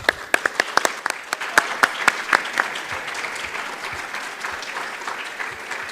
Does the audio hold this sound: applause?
yes